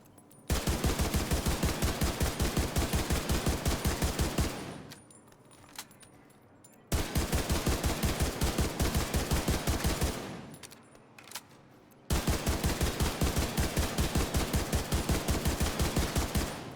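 Video game ACR SS rifle fired in three long sustained full-auto bursts of rapid, evenly spaced shots, each lasting about four to five seconds, separated by short lulls with faint background noise.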